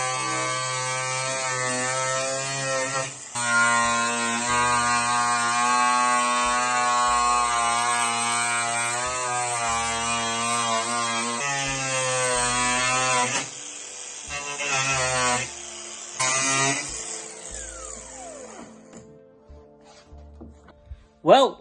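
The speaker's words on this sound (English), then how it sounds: "I got my angle grinder, with the cutoff wheel. So I'm gonna use the cutoff wheel on it." An angle grinder with a cutoff wheel cuts metal on an off-road Tracker, a loud, close motor whine that holds steady, dips and rises in pitch as the wheel bites, then cuts out near the end.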